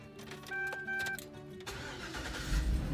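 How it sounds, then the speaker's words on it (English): A HUMMER H2 engine cranks with a whirring starter, then catches and settles into a steady, fairly loud idle. "So I'm going to start the HUMMER."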